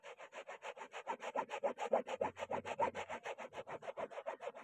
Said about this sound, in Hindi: बॉटल के टोक से रगड़ते हैं।